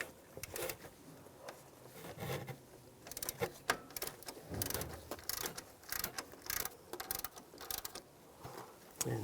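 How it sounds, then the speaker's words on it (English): Mechanical clicking and ratcheting from tightening a bolt while replacing the fuel pump on a 2010-2016 Cadillac SRX, a quick irregular run of close ticks and rattles at low level with no talk. "Now we can tighten this bolt down."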